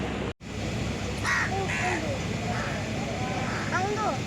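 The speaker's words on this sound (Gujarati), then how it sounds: "કાગડો પાણી પીવે." A crow caws several times at a gas station with a busy crowd, the calls coming at moderate distance over steady background noise and chatter.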